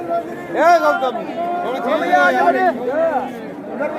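Crowd of pilgrims queuing at a Char Dham temple, a steady murmur of overlapping voices and chatter close around, with individual speakers rising above the babble.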